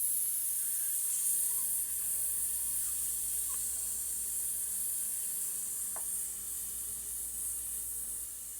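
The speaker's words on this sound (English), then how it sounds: "and then hissing out for as long as you can." A long, slow breath hissed out during a singing breath exercise, a steady, faint airy hiss that tapers gradually as the air runs out, with no talking.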